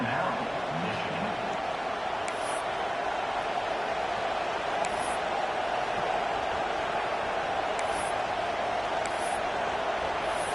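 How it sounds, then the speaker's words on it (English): A stadium crowd at a college football game roars in a constant dense wash of noise, loud and unbroken, with a few faint high clicks over it. "This crowd bringing the energy and noise early."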